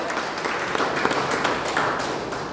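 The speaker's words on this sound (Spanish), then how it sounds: "Y le van un aplauso al Señor" Church congregation applauding during a Spanish-language sermon, a steady dense wash of clapping across the whole stretch with no talk over it.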